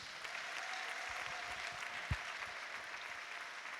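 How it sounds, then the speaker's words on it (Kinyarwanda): A church congregation at an ADEPR prayer service breaks into sustained applause, a dense, even clatter of many hands heard at a distance with a few louder thumps. "dukomere Imana amashyi menshi"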